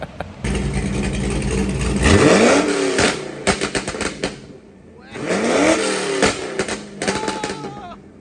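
A Corvette C5 Z06 engine on a dyno revs hard in two long, loud pulls with rising pitch, each ending in sharp popping bursts as the throttle lifts.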